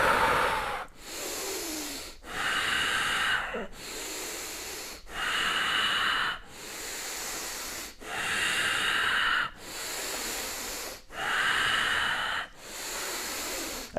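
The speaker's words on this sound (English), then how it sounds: "So 9 deep breaths. Filling and emptying the lungs." Slow, deep breaths fill and empty the lungs in a regular cycle, about eight or nine breathy inhales and exhales alternating close to the ear, with no talking.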